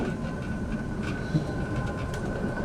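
Interior of a suburban passenger train near Maylands station in Perth: a steady, loud rumble of wheels on rails with a continuous hum, faint clicks and a brief thump, no voices.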